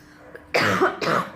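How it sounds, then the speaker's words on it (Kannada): A woman coughs in a couple of quick, close bursts with some throat clearing while eating milk chocolate, in a quiet room. "ಸಾರಿ, ಚಾಕ್ಲೇಟ್ ಅಂತ ಕೆಮ್ಮು ಶುರು ಆಗ್ತಾ ಇದೆ."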